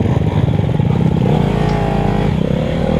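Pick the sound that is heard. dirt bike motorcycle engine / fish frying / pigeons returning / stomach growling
dirt bike motorcycle engine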